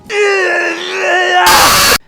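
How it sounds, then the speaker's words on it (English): A male character in a Fire Emblem video game lets out a loud, strained groan that is held for over a second, then breaks into a harsh, rasping scream close to the listener. "his grunts and screams are haunting"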